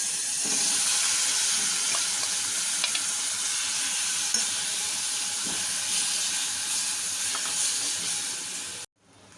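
A steady loud sizzle of mutton frying in hot oil, with occasional scraping stirs, ending abruptly near the end.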